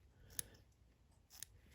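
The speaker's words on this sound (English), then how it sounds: "make some clips with my scissors" Two quiet, crisp snips of scissors trimming fly-tying material for a Metolius Caddis dry fly, about a second apart, faint and close, with a soft hiss in the background.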